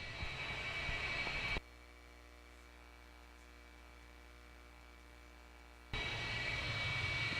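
A jet-engine dragster at the Rocky Mountain Nationals drag race spools up: a loud broadband roar drops to a steady, droning turbine whine for several seconds, then the full roar returns.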